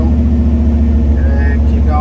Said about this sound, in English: Giving it gas!